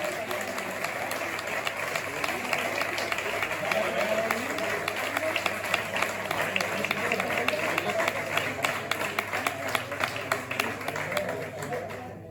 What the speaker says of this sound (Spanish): un aplauso para la alumna y por esta disertación fantástica